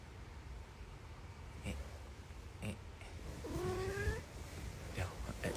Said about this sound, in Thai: มันม่วงมันเป็นแมวดารานะทุกคน